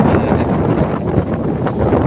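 Strong wind buffets the microphone at Talisay Baywalk, with waves churning steadily beneath in a dense, continuous roar and no pauses.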